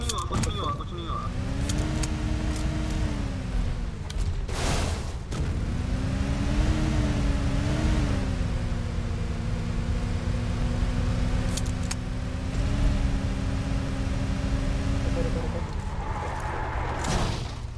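A car engine driving in PUBG Lite, a steady motor drone whose pitch rises and falls as the vehicle speeds up and slows, with several sharp bursts over it and voices talking throughout.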